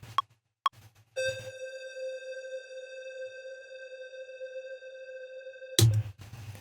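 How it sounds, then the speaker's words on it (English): A synthesizer holds a single sustained tone with bright harmonics for several seconds, framed by a few short clicks and soft low thumps. "record from where that synth plays"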